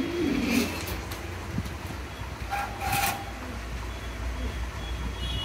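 Black Lahori pigeons coo softly nearby, a few low throaty calls over steady background rumble, with no one talking.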